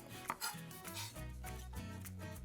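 A knife chops a handful of parsley on a board, a few quick sharp knocks followed by a softer run of cuts, close and faint with kitchen clatter and no talk.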